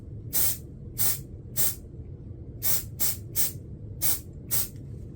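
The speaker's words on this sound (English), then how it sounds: "I'm going to spray some mold release on this so that it will hopefully release well." Mold release sprayed onto a resin mold in eight short, close hissing bursts, evenly spaced at roughly half-second to one-second intervals over a low background hum.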